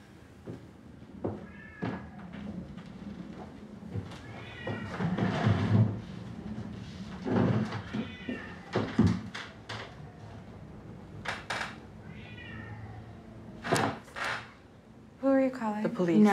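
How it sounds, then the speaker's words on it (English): A cat meows a few times at close range amid people talking, with occasional clunks like a drawer or door and some household clatter in a quiet indoor scene. "It's just a cat, I think."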